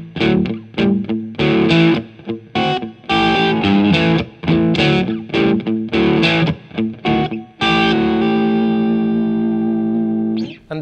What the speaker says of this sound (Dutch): En de sound van de versterker aan de B-kant, en de tweede versterker, als we enkel die horen,